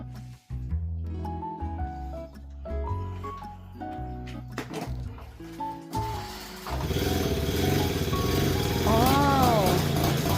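An old motorbike under repair in Belgium: after a few seconds of quieter tonal sounds and talk, its engine starts and runs with a steady, rough drone for the rest of the stretch while a voice speaks over it.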